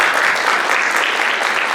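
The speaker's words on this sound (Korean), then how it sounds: "큰 박수 부탁드립니다." Sustained applause from a crowd of journalists and guests closing an opera Macbeth production meeting, a dense, steady clapping texture that stays loud and even throughout.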